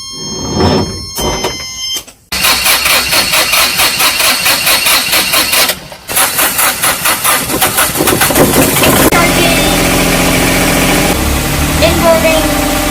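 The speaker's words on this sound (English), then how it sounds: "Generator running, batteries charging, both engines fired up." Marine engines on a trawler in the Berry Islands, Bahamas, crank and catch, then settle into a loud, steady idle with rhythmic pulsing, while a generator also runs in the background.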